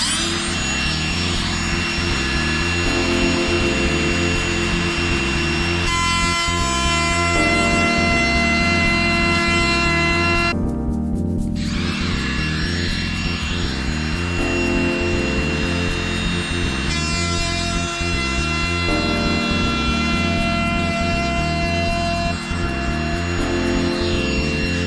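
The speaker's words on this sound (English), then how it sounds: "It'll be my first use of the DeWalt battery powered router here." DeWalt battery-powered router cutting a 1/4-inch-deep clearance for bolt heads in wood, a loud continuous high whine that holds steady for the whole stretch with only a brief dip in the middle, close up and with no talking.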